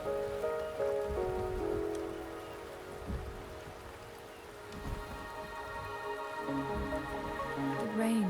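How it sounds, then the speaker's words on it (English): Steady rain falling in the video game Wuthering Waves, a continuous soft patter over a low rumble, with tonal game music layered faintly underneath throughout. "The rain is subsiding, and the sky will soon clear."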